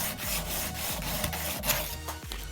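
Close, steady rasping of a piece of plexiglass being sanded, with repeated rhythmic back-and-forth strokes over a continuous gritty hiss and no talking.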